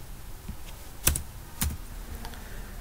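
Code for a login program is typed on a computer keyboard, with a few sharp, close key clicks spaced irregularly over a faint room hum and no talk.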